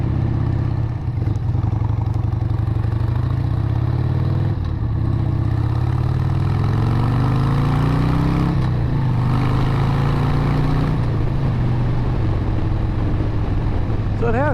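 A 1997 Harley-Davidson XLHS Sportster motorcycle engine drones loud and close throughout, its pitch rising as the bike accelerates. Someone talks over the engine noise.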